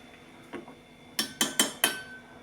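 A spoon stirs frothing mudakathan rasam in a metal pot, giving a faint scrape and then four sharp metallic clinks in quick succession against the pot, close and distinct over a quiet kitchen.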